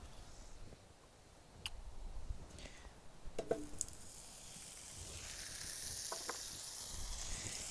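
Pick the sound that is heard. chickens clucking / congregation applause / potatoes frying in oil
potatoes frying in oil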